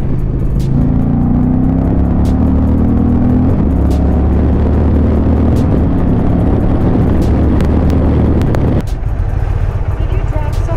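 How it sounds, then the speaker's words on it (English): Indian Challenger Limited bagger motorcycle in third gear, its engine droning loud and steady with rising harmonics through several upshift-like steps, then cutting off near the end amid road and wind noise. "I really like this bike. She sounds angry when she goes"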